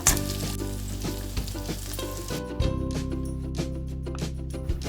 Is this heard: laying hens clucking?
no